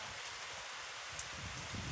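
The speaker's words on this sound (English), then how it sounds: "this wonderful rainstorm. There's a cool breeze blowing too." A rainstorm with a cool breeze in West Virginia, heard as a soft, steady hiss of falling rain and rustling, quiet and even throughout, with one small tick near the middle.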